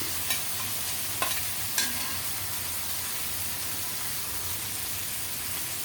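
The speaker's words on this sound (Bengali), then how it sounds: "আলুগুলো একটু নেড়ে চেড়ে ভেজে নেব" Potatoes stirred and fried in a pan, a steady close sizzle with a few distinct scraping knocks of a spoon early on, then continuous frying alone.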